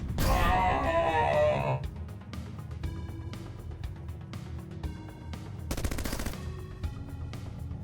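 A rocket fires and explodes in the video game Bionic Dues, giving a loud opening blast that gives way to rapid crackling gunfire-like bursts and a second dense explosive rattle, with game effects layered throughout.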